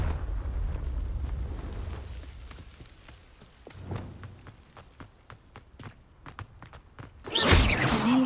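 A Confringo fire spell from Hogwarts Legacy erupts in a loud, broadband blast near the end, following low rumbling and a scatter of soft thuds and footstep-like clicks.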